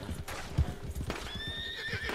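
A horse in Red Dead Redemption 2 clops its hooves in a quick patter, then lets out a clear, drawn-out whinny over the second half, close and moderately loud.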